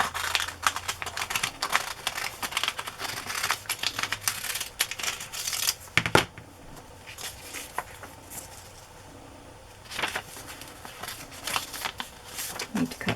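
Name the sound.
pinking shears cutting fabric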